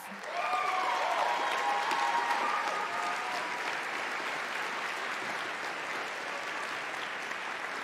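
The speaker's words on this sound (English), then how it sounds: "Let's give them a round of applause." Steady applause from a large audience at the Independent Games Festival awards at GDC, loud and sustained for several seconds, with a few brief whistles or cheers rising near the start.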